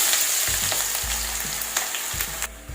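Three sliced onions sizzle steadily in hot coconut oil previously used for frying cauliflower, a dense continuous crackle with occasional spoon scrapes and knocks against the pan.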